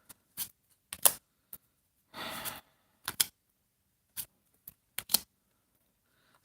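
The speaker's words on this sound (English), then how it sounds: "I'm going to pull some other cards and see what else we get." Tarot cards are pulled from a deck at close range, with short crisp slaps and flicks arriving in irregular bursts and a brief shuffling rasp in the middle, separated by near silence.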